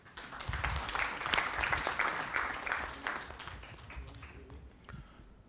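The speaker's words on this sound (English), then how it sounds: "Thank you for clapping." A crowd applauds steadily, dense clapping filling the space for several seconds before thinning out slightly toward the end.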